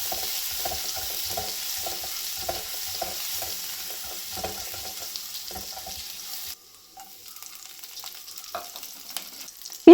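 Fennel seeds, ginger garlic paste and green chillies fry in hot oil in a pan, a steady close sizzle with stirring scrapes for about six seconds, then a quieter, sparser crackle and a sharp clunk at the end.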